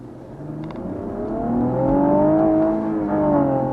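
Cadillac ATS-V driving on a twisty road, its engine note rising and falling steadily as the car pulls through the bends, heard up close with no talking.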